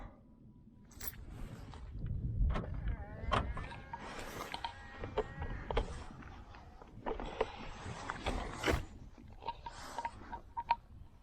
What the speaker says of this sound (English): Let's lock the car.